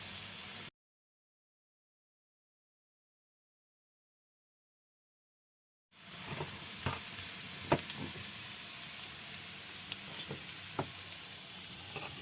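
Egg noodles sizzling and frying in a pan as they are stirred, a steady hiss with sharp scraping clicks, following a stretch of silence near the start.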